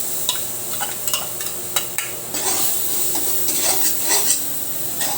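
Garlic sizzles in margarine in a pan, a constant frying crackle broken by repeated utensil stirs and scrapes against the pan, with no voices.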